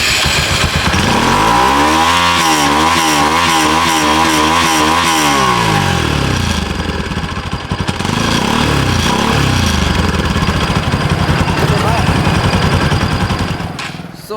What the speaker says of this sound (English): Now talking about the exhaust note of this motorcycle,